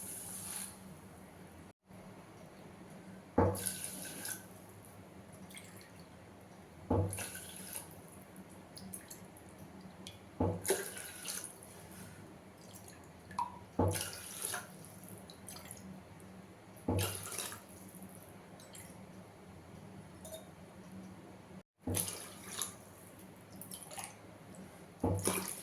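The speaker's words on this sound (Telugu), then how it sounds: "ఒక గ్లాస్ కొర్రలకి 10 గ్లాసెస్ వాటర్ యాడ్ చేయాలి." Water pours into a pot of foxtail millet for ambali in a home kitchen, with faint intermittent splashes and drips at low level, no speech.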